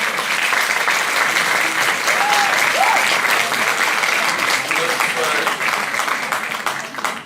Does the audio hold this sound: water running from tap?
no